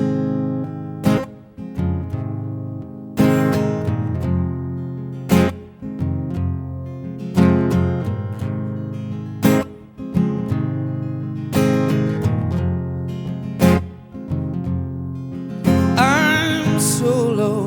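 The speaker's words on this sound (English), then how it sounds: "So I tried to write a soul song that sounds something like this." Live soul song performed at a memorial, with a full band: steady sustained chords and regular punchy accents recurring every couple of seconds, close and fairly loud, with a brighter burst near the end.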